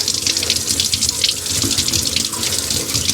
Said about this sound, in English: You can hear the water running back into it.